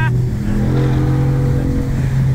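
A Ford race truck with a supercharged 5.0 work-truck motor rated at 400 horsepower holds a loud, steady, deep engine drone up close, no voices over it.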